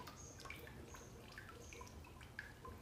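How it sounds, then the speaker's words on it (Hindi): Water dripping drop by drop from an RO water purifier, sparse small plinks of falling drops, quiet and close, with no talk. "एक बूंद बूंद बूंद आता है"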